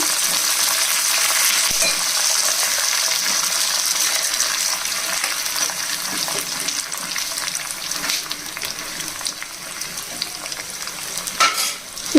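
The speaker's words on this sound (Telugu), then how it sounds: "ఇవన్నీ చక్కగా వేగిపోయిన తర్వాత కరివేపాకు కూడా వేసి వేగించాలి" Curry leaves sputtering in hot oil alongside cashews, a loud continuous crackling sizzle close up with scattered sharp pops and a brief clatter near the end, no voices.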